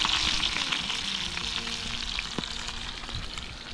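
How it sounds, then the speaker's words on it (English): Mountain trout fry in a pan over a backpacking camp stove, giving a steady, close hiss and crackle of sizzling oil with a few soft clicks of stirring. "got our fish frying up in there, real nice"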